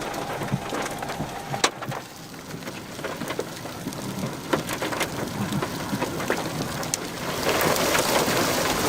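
Steady rain falls from a supercell thunderstorm in Texas, with scattered sharp crackles and a low rumble of thunder. The downpour grows heavier toward the end, with no talk.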